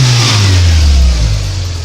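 A Toyota Paseo engine running close by, its loud low drone swelling in a rev and then easing back down toward idle.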